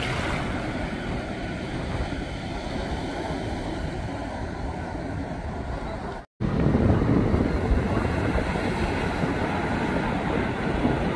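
Ocean waves wash onto an Atlantic City beach with a steady, loud broadband roar, a brief dropout midway, then the surf surging back in louder as a big wave arrives.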